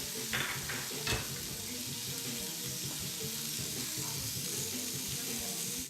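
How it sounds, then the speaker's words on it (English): Garlic and green onion frying in a pan for a flatiron steak dish, a steady continuous sizzle throughout with a few brief clinks and stirring sounds, close and fairly loud. "Then I'm going to add my garlic to it. I don't want to burn the garlic."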